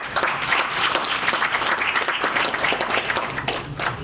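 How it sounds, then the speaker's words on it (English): An audience at a workshop network forum claps steadily at the closing, a dense, continuous round of applause at even loudness throughout. "give me a clap."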